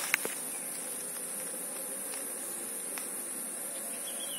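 A steady, dense insect buzz fills the air continuously, like a large swarm of bees droning nearby around a flowering bamboo tree, with a few faint clicks and no talking.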